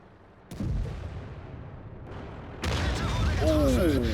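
Two heavy booms from a tank cannon in the World of Tanks video game, each a sharp low blast with a rumbling tail, the second followed by rising mechanical whine and clatter.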